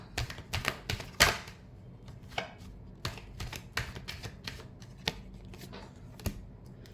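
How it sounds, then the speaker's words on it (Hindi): A deck of tarot cards is shuffled up close in a run of quick, crisp riffles and taps, irregular bursts separated by short pauses, with no speech. "last shuffle"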